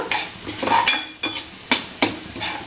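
Paneer curry mixture with kasuri methi being stirred in a pan, a spoon scraping and clinking in several distinct strokes over a soft sizzle, close and fairly loud.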